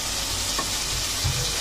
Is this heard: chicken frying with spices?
yes